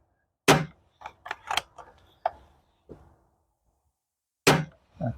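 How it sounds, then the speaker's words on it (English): A pre-charged air rifle fires a few shots outdoors in a backyard, each a sharp crack followed by fainter ticks and clicks of handling, with a gap of several seconds before another close shot. "I'm just going to fire a few shots off to start off with."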